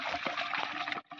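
Shallow water trickles and splashes steadily in a small stream in the Konkan countryside, close and continuous, with a brief drop in level near the end before it carries on.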